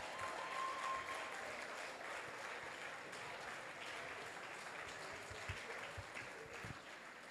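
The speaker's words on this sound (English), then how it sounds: "Please, a beautiful round of applause for Prof." A town hall audience applauds a professor at a national citizens' meeting on constitutional review: dense, steady clapping from many hands fills the whole stretch at an even level, with a few sharper claps standing out near the end.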